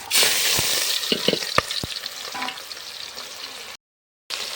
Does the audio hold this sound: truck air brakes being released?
no